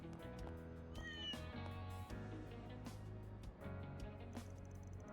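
A cat meows repeatedly in a festival minigame of the video game Trails Through Daybreak 2, the cries light and close over a steady game music bed, with no one talking.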